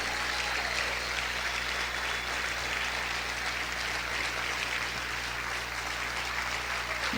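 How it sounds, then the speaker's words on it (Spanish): A church congregation keeps up steady, continuous applause during a sermon, an even broadband roar of many hands, moderately loud and unbroken throughout. "Aplaude más fuerte a tu Rey."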